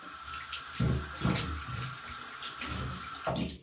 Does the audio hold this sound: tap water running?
yes